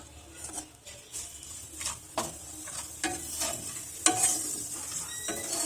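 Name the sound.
ajwain, nigella seeds and ginger sizzling in hot oil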